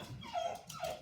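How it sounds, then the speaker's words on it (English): Dogs whimpering indoors, two short high whines in quick succession, faint and brief with no talk over them. "You can hear my dogs."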